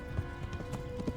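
Horse galloping in Kingdom Come: Deliverance, with rapid hoof clip-clops under a continuous game soundtrack.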